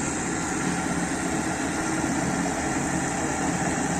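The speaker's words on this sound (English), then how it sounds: "after getting started, we will get a rated speed of the motor" A DC motor drives a shunt generator at rated speed in a lab load test, producing a constant loud machine hum and whirr that stays steady and unbroken, with no talking.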